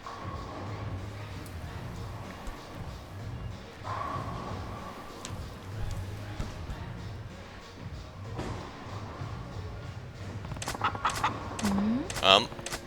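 A chicken in the video game Yakuza 0 gives soft, scattered clucks beneath steady game background sound, with a louder burst of squawking calls near the end.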